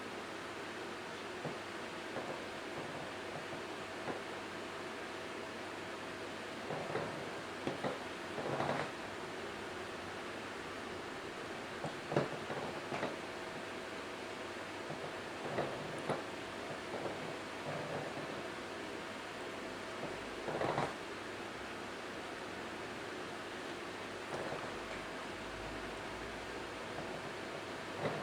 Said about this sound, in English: it's the fan. I have a fan up here cooling down some